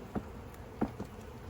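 Bees around an open beehive during a fall hive check, with a faint buzzing background and a few short, close buzzes as individual bees pass by.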